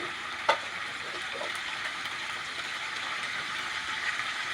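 Cinnamon, cardamom and bay leaves frying in hot oil for pulao give a steady soft sizzle throughout, with one brief clink of a stirring spoon near the start.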